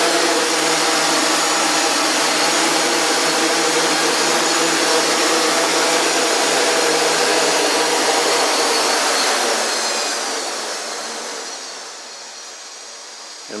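CarbonCore Y6 drone motors spinning during a hover in a garage, a loud, steady, close whine with layered tones that drops in pitch and level near the end as the throttle is eased back.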